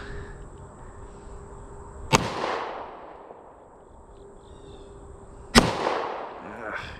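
Two sharp pistol shots from a Kahr CM9 handgun fired outdoors, a few seconds apart, each a loud crack followed by a rolling echo that fades away.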